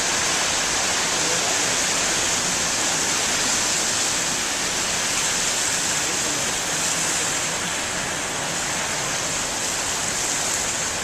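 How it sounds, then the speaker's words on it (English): Big waves rolling into an ocean inlet, a continuous loud roar of surf and churning water that holds steady throughout with no pauses. "I like the way they would come in really long waves like that."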